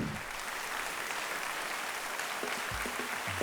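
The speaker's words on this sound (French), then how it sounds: "Merci d'applaudir" An audience at an awards ceremony applauds, dense, steady clapping that holds throughout with a few faint low thumps near the end.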